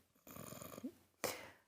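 A man snores faintly in a gendarmerie office, giving a couple of rough, rasping breaths with short pauses between them, each snort quiet and close.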